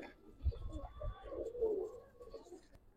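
Old generation gribaz pigeons coo softly close by, a few low, throaty coos in a quiet setting.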